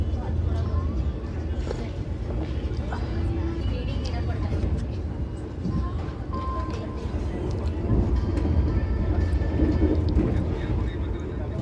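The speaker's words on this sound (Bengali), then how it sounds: "তো এই ট্রেনটি মানে ট্রেন নাম্বার" Inside the Vande Bharat Express, train 22301 running from Howrah to NJP, a steady low rumble and rushing noise fill the carriage continuously and fairly loudly, with no talk.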